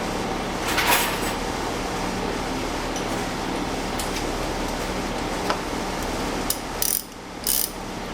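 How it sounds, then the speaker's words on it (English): A 10mm socket ratchet loosens the negative battery terminal on a Mazda 626, giving rapid, continuous close-up clicking with a few sharper knocks near the end and no speech. "disconnect the negative terminal of the battery using 10mm"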